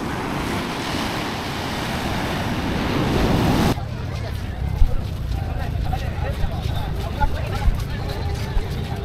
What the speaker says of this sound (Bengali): আপনারা শুনতে পাচ্ছেন ঢেউয়ের গর্জন।